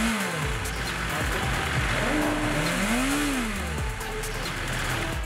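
A BMW S 1000 RR motorcycle's high-revving engine rises and falls in pitch through several rev sweeps, loud and close, with a faint voice underneath.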